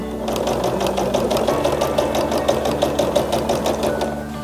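A sewing machine stitches through quilt fabric with a fast, steady mechanical chatter that runs evenly and close by, with no voices.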